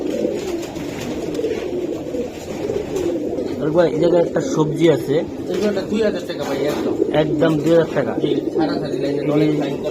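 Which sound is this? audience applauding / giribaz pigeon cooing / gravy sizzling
giribaz pigeon cooing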